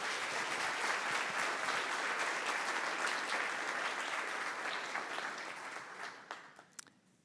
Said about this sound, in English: Please give a very big applause to Armin Ronacher.